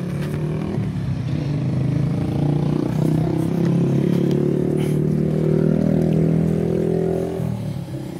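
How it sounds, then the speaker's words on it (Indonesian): A car engine runs after being started following an injector and fuel-rail cleaning, still mixed with injector cleaner; a steady, loud, rough idle hums close by throughout with a slight clattery texture. "Dan kita start mesin."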